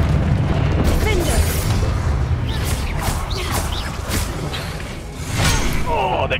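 Confringo fire spell blasts in Hogwarts Legacy combat, repeated fiery bursts and booms over a dense, busy battle din, with no clear talk.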